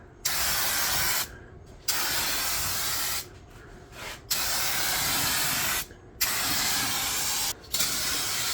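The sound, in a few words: aerosol spray paint can spraying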